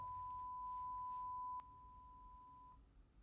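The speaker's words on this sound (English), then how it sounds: "We better put a beep in there." A single steady censor beep tone, clear and sustained, lasting about a second and a half before cutting off, over faint background noise with no talk.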